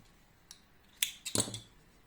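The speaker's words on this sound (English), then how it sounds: "I'm making 1 chain and cutting the yarn." Scissors snipping crochet yarn after a finished round: a faint tap, then a few quick crisp close-up cuts clustered together, alone in a quiet room.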